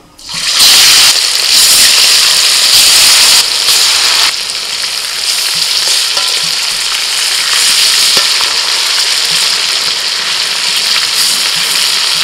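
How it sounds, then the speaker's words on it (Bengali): Chicken pieces frying in hot oil for chicken fry biryani, a loud, dense, continuous sizzle that bursts up at the start and stays strong throughout, close up, with no talking. "এবার ওই তেলের মধ্যে চিকেনটা ফ্রাই করে নেব"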